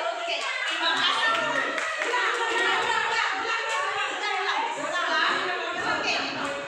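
Children in a classroom clap in unison during a clap chant, a dense rhythmic patter of small hands that runs steadily throughout, mixed with lively young voices chanting and chattering.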